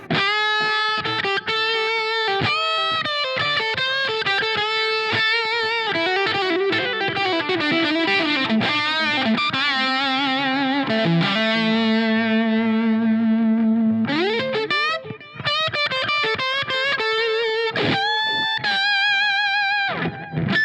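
A distorted electric guitar on the bridge pickup through a Line 6 Helix Brit P-75 amp model plays a continuous stream of riffs and sustained chords, loud and saturated with a slight chorus shimmer, no voices.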